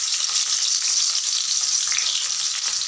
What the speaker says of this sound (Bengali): প্রথমে আমি রসুনগুলোকে দিয়ে দিলাম